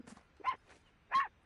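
A pet dog reacting to a Metal Gear Solid Delta: Snake Eater game gives two short, sharp barks about half a second apart in an otherwise quiet room.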